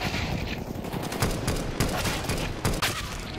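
Sustained gunfire in a CS:GO collegiate match, a dense rattle of rapid shots with several sharper cracks standing out, loud and continuous throughout.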